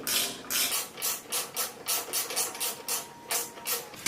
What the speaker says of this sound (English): Now take your Allen wrench, stick it in the head of the bolt, and tighten this baby up.